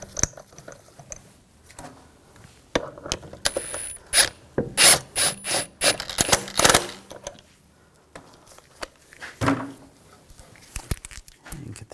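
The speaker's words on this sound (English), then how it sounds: "And get the other lug bolts started. And snug those down." A ratchet snugs down the lug bolts on a wheel of a 2000-2006 BMW X5, giving bursts of rapid, close metallic clicking with pauses and light rubbing of parts between them.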